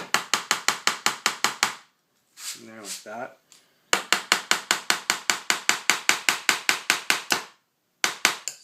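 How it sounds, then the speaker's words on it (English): A small hammer drives a nail into a baseboard, tapping rapidly and evenly in long runs of sharp strikes, close up, pausing briefly while a voice speaks. "I'm going to start hammering that nail"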